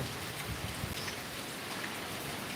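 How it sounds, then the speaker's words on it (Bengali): Heavy rain pours down steadily, a dense continuous hiss of drops close by with no voices over it. "এত বৃষ্টি দেখো একদম জল উঠব হয়ে যাচ্ছে"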